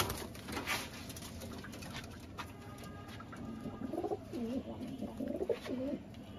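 Male Giribaz Pakistani flying pigeons coo in a series of soft, throaty, rolling calls late on, over a faint rustling background with light patter, with no talking.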